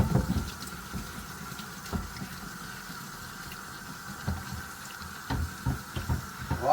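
Hot tap water runs into a sink over a cast iron pan, a soft steady splashing stream with occasional louder clanks and knocks from the pan being handled, nearby with no voices.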